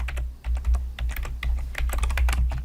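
Quick bursts of keystrokes on a computer keyboard as a heading is typed into a JavaScript file, close and crisp over a low steady hum, with no talking.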